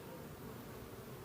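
Honeybees swarming around hives in mid-December in Durrës, a brief, soft, continuous buzzing drone with no other sounds standing out.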